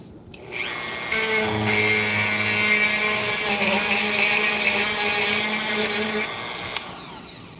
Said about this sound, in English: let me go in again with the Dremel for a little bit more